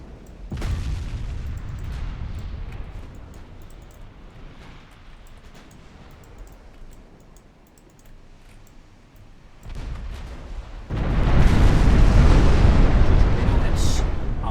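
A torpedo strikes a warship in the naval battle game Ultimate Admiral Dreadnoughts with a loud, deep boom that rolls into a sustained roaring rumble, following a quieter stretch of low battle noise.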